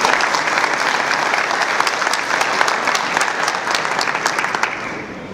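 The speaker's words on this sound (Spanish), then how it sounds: "igualmente le damos un fuerte aplauso" Steady audience applause at an aquaculture forum honor roll ceremony, dense and continuous clapping from a large crowd filling the room, fairly loud and sustained throughout with no talking over it.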